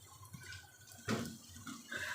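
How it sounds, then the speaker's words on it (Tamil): Heated water is poured into a pot for chicken biryani. The pour is a quiet splashing trickle with a brief louder gush partway through. "இப்போ வந்து நம்ம சூடு பண்ண தண்ணியை தூக்கி ஊற்றிப்போம்."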